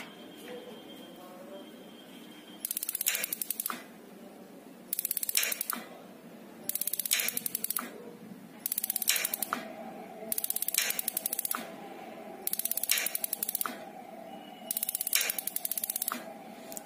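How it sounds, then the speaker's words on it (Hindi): A gas geyser runs with a steady low hum and repeated bursts of metallic clicking and rattling at regular intervals, then a soft thud as its electromagnetic relay drops. "वो रिले गिरने की आवाज होती है"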